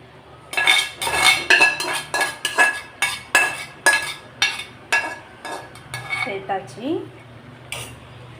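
Sautéed bitter gourd goes into a pot of boiling tamarind gravy, with repeated metallic clinks and scrapes of a ladle against the pot in a steady rhythm, close and fairly loud.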